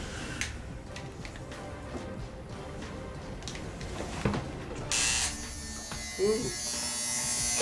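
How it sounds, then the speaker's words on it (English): An Andis T-Outliner barber clipper with a freshly sharpened GTX blade and loose blade tension runs with a steady electric buzz, a few clicks, and a brief voice exclamation near the end. "So the tension is too loose on this clipper, I could tell, because it's just about to fly off there"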